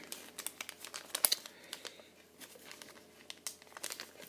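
Sheet of paper creased and folded into an origami bellows, with soft crinkling and crisp crackles in irregular bursts, close and quiet with no talking.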